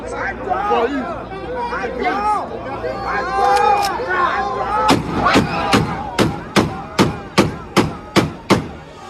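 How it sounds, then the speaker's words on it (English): Excited crowd chatter and shouting, followed by a rapid series of about ten loud, sharp gunshot-like bangs fired in quick, regular succession. "So I just want to give a gunshot for you."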